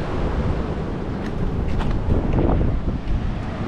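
Wind buffets the microphone steadily at Krakal Beach in Yogyakarta, with the low wash of surf blended into the rushing noise throughout and no voices.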